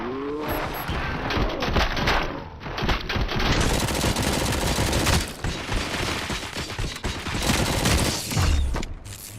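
Sustained automatic gunfire rattles through a battle in the video game Robocop: Rogue City, loud and dense, with bursts overlapping almost without pause.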